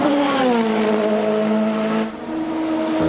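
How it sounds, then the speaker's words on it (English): A 1986 Brabham turbo Formula One car driven by Riccardo Patrese at qualifying for the Australian Grand Prix screams past on a quick lap, its high engine note falling then dipping briefly before rising again, loud and alone. "And there's the Brabham of Riccardo Patrese, clearly on a quick one."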